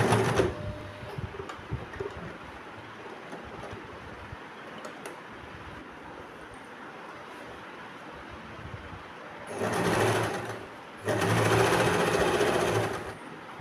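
Sewing machine stitching a folded petticoat hem, first faint and intermittent, then two loud sustained runs of fast mechanical whirring near the end, close to the listener with no speech.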